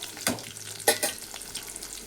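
Cumin, coarsely crushed garlic and dried red chillies fry in hot oil for a mango pickle. A soft, close sizzle is broken by a few sharp stirring scrapes against the pan, with no talking.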